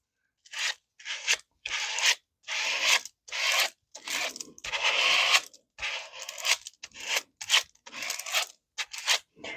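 Repeated scratchy rubbing strokes along paper edges, close and steady, in short bursts with brief pauses between them, no voices.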